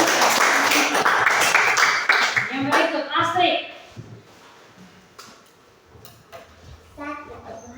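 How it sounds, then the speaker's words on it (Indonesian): A group of people claps together in a room, a burst of dense applause lasting a few seconds before fading into scattered taps, with talking mixed in. "semua tepuk tangan dulu buat"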